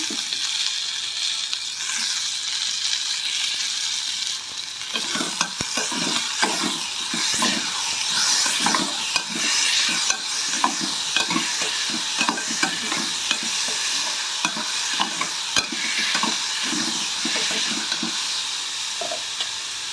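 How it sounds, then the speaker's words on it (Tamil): Onions and curry leaves frying in oil in a pan for potato kurma, with a steady sizzle and repeated scraping stir strokes throughout, close and fairly loud, no talk. "இந்த அளவு வெங்காயம் வதங்கினா போதும் அடுத்து கருவேப்பிலை சேர்த்துக்குவோம்"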